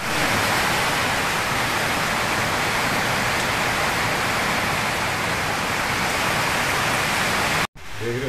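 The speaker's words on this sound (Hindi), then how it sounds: "बारिश शुरू हो चुकी है" Steady, dense rain hiss fills the whole clip at a loud, constant level, cutting off abruptly near the end.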